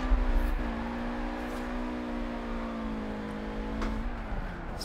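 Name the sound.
car drifting with squealing tires in Forza Horizon 4 video game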